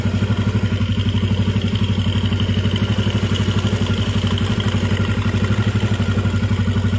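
A Yamaha Jupiter MX motorcycle engine idles up close, heard from the left side at the cam chain area, with a steady, rapid mechanical ticking and clatter, an even rhythmic chug throughout.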